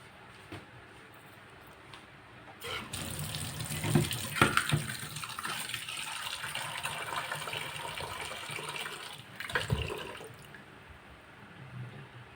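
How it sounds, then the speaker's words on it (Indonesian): Tap water pours steadily into a pot for cooking jumbo Indomie noodles, a soft splashing rush that starts abruptly, runs for several seconds with a few louder sloshes, then stops, with faint room noise on either side. "Saya harus ambil air dulu."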